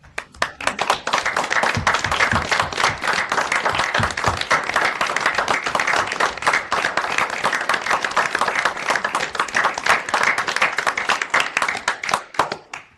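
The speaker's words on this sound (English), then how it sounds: "give them a round of applause" Sustained applause from a council meeting audience honoring project workers, dense steady clapping from many hands that runs strong for about twelve seconds before tapering off.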